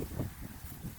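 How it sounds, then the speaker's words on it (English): Strong wind buffeting a microphone outdoors, a steady low rumbling roar with gusty surges throughout, no voices. "it is windy out today"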